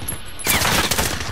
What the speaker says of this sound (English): it's a good rapid fire gun